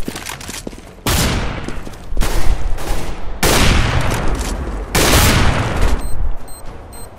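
Heavy rifle shots crack out in Counter-Strike: GO on the Seaside map, four loud booming reports spaced about a second apart with long echoing tails, trading fire in a sniper duel.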